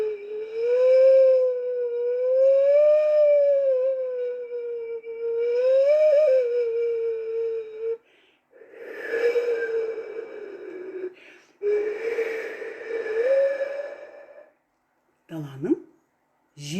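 A sazsyrnai clay flute imitates the steppe wind with a sustained, wavering breathy tone that rises and falls in long swells, broken by brief pauses and a short falling swoop near the end.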